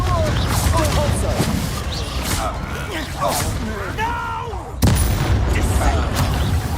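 Confringo, the explosive fire spell, cast during a duel in the video game Hogwarts Legacy, with loud blasts and crackling bursts over dense game effects and battle noise while voices speak throughout.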